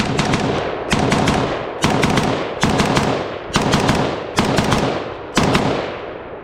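An IWI Tavor SAR bullpup rifle fires seven loud, close shots at an even pace of roughly one per second, each with a sharp crack and a trailing echo.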